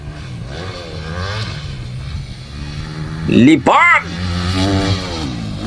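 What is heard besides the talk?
250cc motorcycle revving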